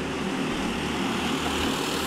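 Racing karts with Predator engines howl at full throttle in an Auto Lube and Repair class race, producing a dense, continuous roaring drone that stays loud and unbroken with no lift.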